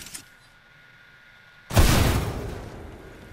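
A frag grenade goes off in a video game: after a quiet moment there is one sudden loud blast whose rumble then fades away slowly.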